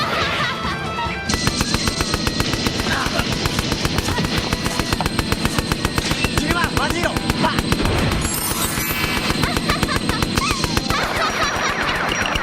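A Gatling gun in the Magiranger TV series fires a sustained rapid rattle of shots, loud and dense, with voices and effects mixed over the barrage.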